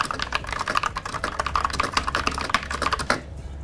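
Fast typing on a budget mechanical keyboard, a close, rapid run of crisp clacking keystrokes with a few louder strikes, ending in a brief pause.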